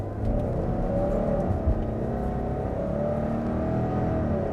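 A 2020 Subaru Outback with a CVT accelerating, heard from inside the cabin as a steady, moderately loud engine drone with slowly rising tones throughout, no voices.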